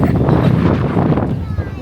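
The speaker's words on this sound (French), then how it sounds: "Mais c'est qu'il y a du vent ici." Wind gusts into a microphone outdoors during a springtime trip to Croatia, giving a loud, rumbling, low buffeting that lasts the whole short stretch.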